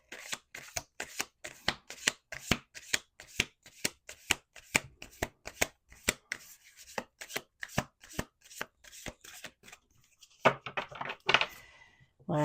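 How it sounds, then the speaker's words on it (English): A deck of playing cards riffle-shuffled over and over, sharp rhythmic flicks and taps at a steady pace, close and crisp, finishing with a softer burst of card noise near the end. "2 more shuffles here."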